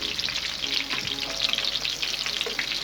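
Chicken gola kabab frying in a pan over low to medium flame, with a steady, close, continuous sizzle and crackle throughout and no voices.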